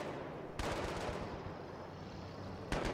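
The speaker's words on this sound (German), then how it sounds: "Gut, die Rakete trifft nicht." Rocket launch and blast in the Battlefield 3 multiplayer game on PS3, on the Kharg Island map: two sharp broadband bursts over a continuous rumbling battle din, heard alone without talk.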